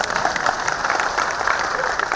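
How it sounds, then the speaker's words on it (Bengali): An audience at a fish food festival in Guwahati claps in dense, continuous applause, loud and steady. "আপনার হাততালি মারো"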